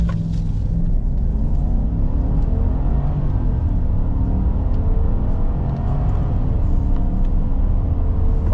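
A 2023 Chevrolet Silverado RST full-size pickup with the 5.3-liter engine accelerates hard from a standstill toward 60 mph, giving a loud, steady engine roar over heavy road rumble with no talking.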